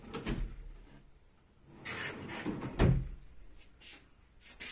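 Drawer of a dual-color sliding wardrobe being opened and closed, a few soft wooden knocks and sliding scrapes with one sharper thud near the middle, close by and heard alone.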